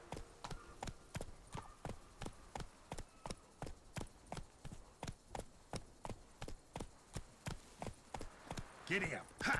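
Horse hooves clip-clop at an even trot in the game Witcher 3, a steady run of about two dozen crisp, woody hoofbeats, close and regular, with a brief rustle near the end.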